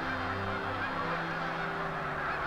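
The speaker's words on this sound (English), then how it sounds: "About this time, the geese normally come in to feed" A dense flock of geese honks continuously, many overlapping calls blending into a loud steady clamor with no pauses and no voices.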